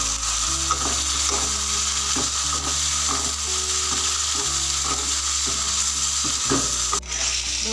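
Garlic paste and turmeric hitting hot oil in a pan for a fish-head muri ghonto, a loud continuous sizzle with faint spatula clicks and a low steady hum underneath, no voices present.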